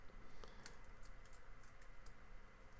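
Faint, soft keyboard typing while entering text into presentation software, a few scattered light key taps over a steady background hiss, with no talking.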